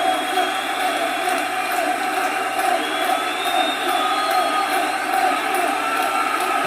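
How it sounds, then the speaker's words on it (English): Recorded crowd noise plays from a TV about a foot and a half away, a steady dense roar of many voices and cheering that holds evenly throughout without breaks. "Okay, so now the crowd noise is going."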